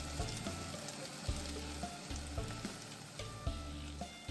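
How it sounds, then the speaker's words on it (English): Churros frying in hot oil: steady oil sizzle and crackle with bubbling, punctuated by soft clicks at regular intervals, fairly quiet and with no talking. "I'm gonna go ahead and put the churros in"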